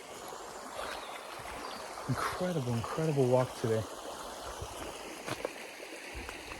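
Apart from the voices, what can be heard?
waterfall and stream beside stone abandoned houses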